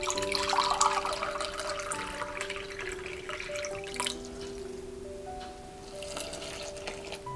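Warm filtered water is poured into a container for sourdough, a soft, faint trickle and splash that is busiest at the start and continues quietly throughout, with no talking.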